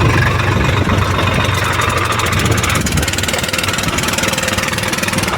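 Swaraj tractor and a mini tractor with engines running close by, a loud continuous diesel chug with steady rattling vibration throughout.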